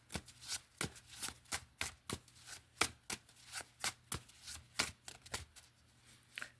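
Tarot cards shuffled by hand, a brisk series of crisp flicking and slapping card sounds in an uneven rhythm, close and quiet over a faint low hum, with no speech.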